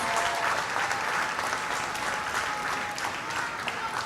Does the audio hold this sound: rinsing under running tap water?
no